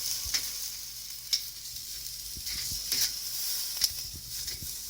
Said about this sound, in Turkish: Kestanelerimi dizdim. Ve sık sık çeviriyorum.